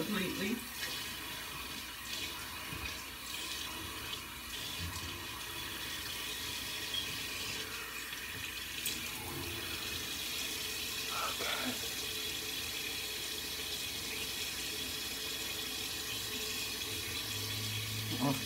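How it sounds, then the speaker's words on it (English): Tap water runs steadily into a sink during rinsing, a soft continuous hiss at low to moderate level with a few faint knocks and shifts in the flow. "Make sure you rinse it all off completely."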